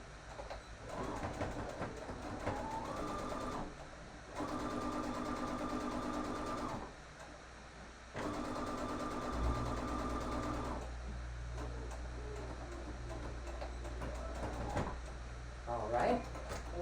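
A sewing machine stitches a 3D fabric face mask in three steady, loud runs of motor whir, separated by short pauses and handling noise, with a low hum and a sharp rustle near the end.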